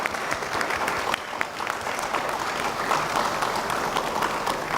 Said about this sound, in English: Huge round of applause for him.